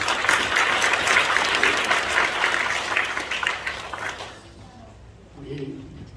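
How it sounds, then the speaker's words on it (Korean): A church congregation in Korea applauds at an ordination service, a full, dense round of clapping that fades out after about four seconds, followed by quieter room sounds and a brief voice. "큰 박수로 맞이하도록 하겠습니다"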